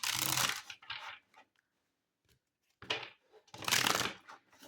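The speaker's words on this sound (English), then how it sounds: "Let me reach over and pull another deck all together." A deck of cards being pulled out and handled up close, with loud rustling, riffling bursts at the start and again near the end, separated by a nearly silent gap.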